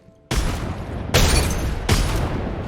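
Grenade blasts and gunfire in a shooter game, three loud booming hits in a row, each followed by a sustained rumbling roar, close and heavy.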